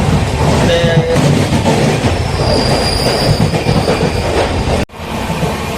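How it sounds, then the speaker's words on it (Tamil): Cheran Express passenger train running at speed after leaving Arakkonam, a loud, continuous rumble of wheels and carriages with squealing wheels, heard from on board without pause and briefly dipping near the end. "சேரன் எக்ஸ்பிரஸ் செம்ம ஸ்பீடுங்க. அரக்கோணத்தில் புறப்பட்டோன்னே சரியான ஸ்பீடில் போயிட்டுருக்கு."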